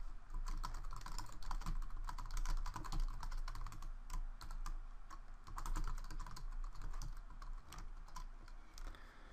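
Steady, fast typing on a computer keyboard while entering LaTeX commands, dense clicking keystrokes running continuously at close range with no voices.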